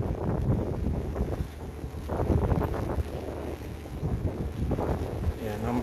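Strong wind buffets the microphone at Tahuna harbor while high waves surge against the dock and moored ships rock in windy rain, a constant roaring wash throughout.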